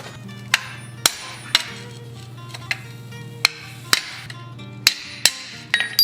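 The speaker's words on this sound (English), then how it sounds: "I want to punch a hole in here rather than drill it." Sharp, ringing hammer blows driving a punch through hot metal at a blacksmith's anvil, about a dozen irregularly spaced strikes, loud and close with metallic ring over a low background hum.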